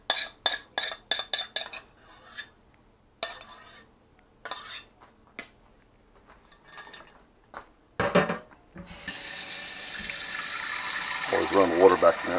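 Dishes and cutlery clatter in quick bursts, then water runs steadily into a pot used for cooking oatmeal, a loud continuous rush that rises in pitch toward the end as the pot fills.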